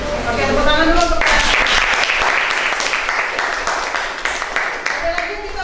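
A classroom group applauding, a dense, steady burst of clapping that swells and then gradually thins out, with some voices mixed in.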